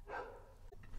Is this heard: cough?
no